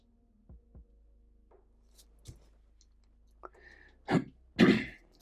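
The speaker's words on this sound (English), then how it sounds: "sorry if I cough a bit" A person coughs a few times, starting with two faint short coughs and building to two louder, harsher coughs near the end, close and otherwise quiet.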